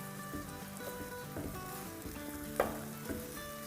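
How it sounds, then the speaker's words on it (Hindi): Chicken scrambled and stir-fried in a pan over medium-high flame, a soft steady sizzle with occasional scraping stirs and one sharper clink, close and quiet. "और अब चिकन भी मिला देंगे और अच्छे से स्क्रैम्बल कर देंगे।"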